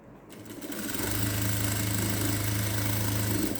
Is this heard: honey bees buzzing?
no